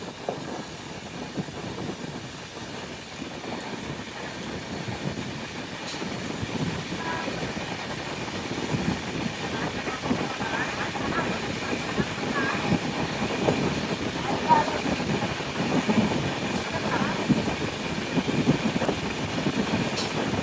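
Steady, dense rumble and rattle from aboard a moving express train as another train crosses past on the adjacent line, loud and continuous throughout.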